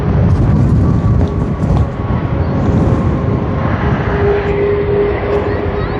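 A Singapore Airlines airliner at Sydney Airport produces a loud, close engine roar with a sustained low rumble and a faint whine layered on top, fairly constant from start to finish.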